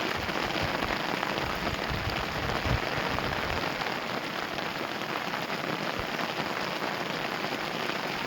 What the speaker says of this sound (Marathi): पाऊस चालू आहे जोरात,